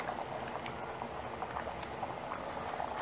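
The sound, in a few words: tamarind and jaggery water simmering in lima bean curry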